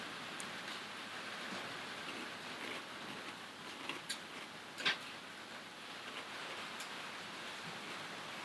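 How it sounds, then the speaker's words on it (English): Quiet, steady rain falls outside a workshop, a soft continuous hiss broken by a few faint ticks and drips, with no one talking. "Can you guys hear the rain?"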